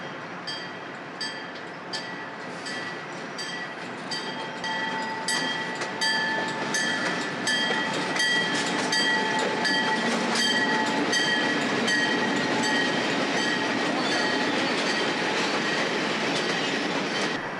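Another ALCo diesel passenger train rolls in from Brooklyn to the busy Belmont Park terminal, a continuous rumble with rhythmic clickety-clack and occasional wheel squeal, growing slightly louder as it nears.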